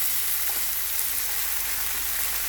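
Country chicken sautéing in hot oil in a pot, a steady, close, loud sizzling hiss that holds evenly throughout, with no voices.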